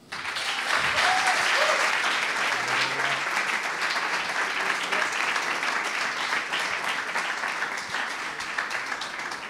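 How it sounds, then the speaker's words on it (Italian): Loud, sustained applause from a studio audience welcoming guest Piotta on the show Tintoria, many hands clapping densely and evenly, with brief vocal cheers near the start and a slight fade toward the end. "vi chiedo un applauso per il Piotta"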